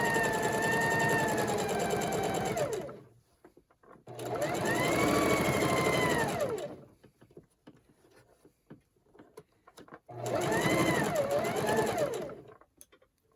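A sewing machine stitches the last corner of a Christmas table runner in three sustained runs of steady, close motor whirring, each lasting a few seconds and separated by short quiet pauses.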